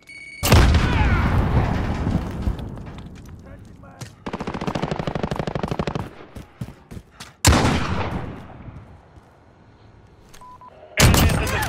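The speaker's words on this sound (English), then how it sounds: "Throwing grenade!" Rapid automatic gunfire and heavy grenade blasts from a Call of Duty Modern Warfare Season 2 match, loud and close, with sharp booms breaking up long bursts of rattling shots.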